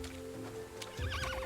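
A horse in the farming game Roots of Pacha neighs, a loud, clear whinny that rises and wavers over steady game music, standing alone without talk.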